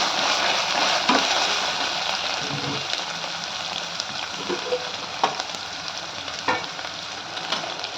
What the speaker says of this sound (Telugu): ఆయిల్లో పచ్చివాసన పోయే వరకు వేపిస్తున్నాం